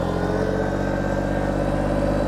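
A two-wheel drive tractor on R4 tires spinning donuts across a wet lawn, its mid-pitched engine droning steadily and close by with slight revving throughout, no voices.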